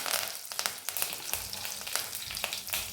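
Mustard seeds, dried red chilies and curry leaves fry in hot sesame oil, giving a steady close sizzle broken by sharp crackles and seed pops, with no voices.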